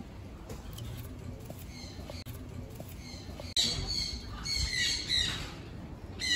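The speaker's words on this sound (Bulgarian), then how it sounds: "Папагалчета." Parrots at a Shanghai zoo near the panda enclosure give repeated harsh squawks and calls, growing louder and denser in the second half over steady outdoor background noise.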